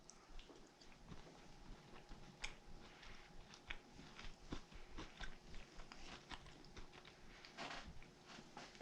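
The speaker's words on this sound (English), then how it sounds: "Crunchy on the outside," Quiet crunching and chewing close to the mic of a thin, crispy pumpkin spice cookie, a steady run of small crisp bites and munching with no voices.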